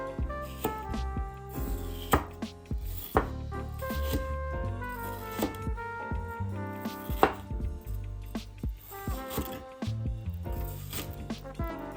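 A knife chops through a big bundle of herbs on a cutting board in a home kitchen, a run of quick, crisp, irregular thuds and scrapes close by, with no talking.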